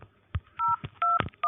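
Telephone keypad DTMF dialing tones from a call to a service hotline, several short clean beeps in uneven succession with brief pauses between, close and clear with no talking.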